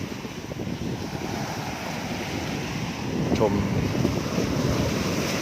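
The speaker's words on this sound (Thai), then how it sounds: "ฟังเสียงคลื่นกระทบฝั่ง" Steady roar of monsoon-season surf washing onto a Gulf of Thailand beach in Pattani, with strong wind rumbling across the microphone and a brief spoken word partway through.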